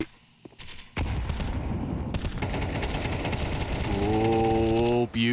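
Sustained rapid gunfire spray from a Counter-Strike match at IEM Katowice 2024 on the Ancient map, loud and dense automatic bursts filling the clip, ending with a brief tonal effect and a short cut.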